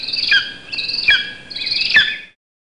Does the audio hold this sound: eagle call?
yes